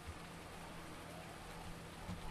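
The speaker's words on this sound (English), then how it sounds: "And then we just got rain again today" Soft, steady rain in the video game Farming Simulator 19 forms a constant, faint hiss of falling drops with no other sounds.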